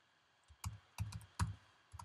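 Keystrokes on a computer keyboard while entering text in Adobe Animate CC: a few soft, separate clicks in an irregular rhythm, close and quiet, with no voices.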